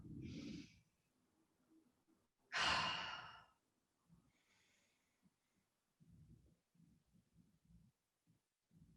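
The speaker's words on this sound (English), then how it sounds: "Exhale, I know I'm breathing out." Slow yoga breaths, inhaling and exhaling audibly: a soft breath at the start, then a long, loud exhale, followed by faint quieter breathing and small rustles.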